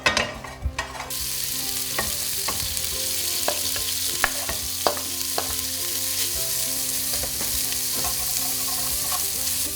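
Bacon frying in a pan over raised heat after eggs, a steady loud sizzle with scattered crackles and pops, heard alone without talk.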